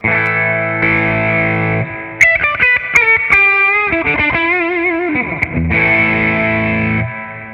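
A Telecaster through a tube boost pedal into a Two-Rock amp, volume cranked: overdriven chords ring out loud and warm, with a lighter single-note passage in the middle before the full, crunchy strums return.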